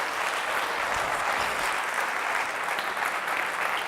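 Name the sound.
loud applause in church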